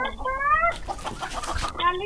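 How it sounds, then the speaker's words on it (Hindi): Chickens cluck close by in short bursts, with a voice speaking in between and steady rustling farmyard noise around them. "ये देखिए हमने ये सारे मुर्गे खोल दिए हैं"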